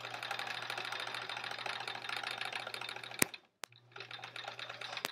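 A sewing machine stitches quilt pieces for half-square triangles and flying geese with a steady, close, rapid mechanical whir. It pauses briefly, then resumes.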